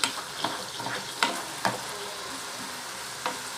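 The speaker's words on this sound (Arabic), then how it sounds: "كده حطينا الاول البصل المبشور على الزيت والزبدة يتشوحوا مع بعض." Grated onion sautés in oil and butter with a constant close sizzle, broken by several sharp scraping knocks of the stirring spoon against the pan.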